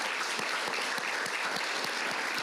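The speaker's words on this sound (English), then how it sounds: "let's give a round of applause to all of our nominees and award winners" Audience applause at an annual historic preservation awards ceremony for nominees and winners: steady, dense clapping from a seated crowd, with a few sharper individual claps standing out in the wash.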